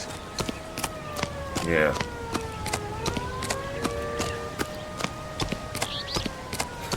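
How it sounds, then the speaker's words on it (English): A character's footsteps in the video game L.A. Noire, a steady run of soft regular steps under a droning musical backdrop, with a brief spoken word partway through. "Again, I could just hear his footsteps."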